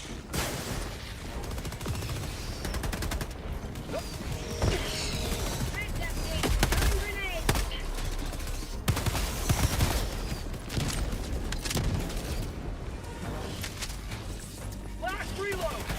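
Gunfire and explosions keep going in Helldivers 2, dense and loud, with rapid shots and heavier booms layered together while a voice talks over the fighting.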